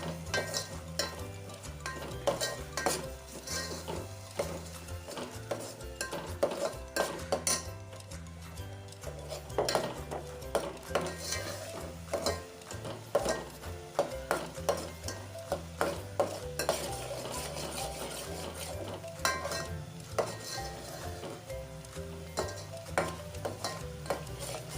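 A spice paste of coriander, ginger, garlic, cumin and sesame roasts in a pan, with steady sizzling and repeated scraping and clinking of a spoon stirring against the metal.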